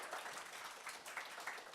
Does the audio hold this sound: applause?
yes